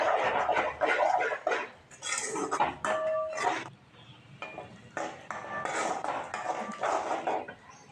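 Goat blood fry is stirred in a pan over low heat, a metal spoon scraping and knocking against the pan in uneven repeated strokes, close and steady with faint sizzling beneath.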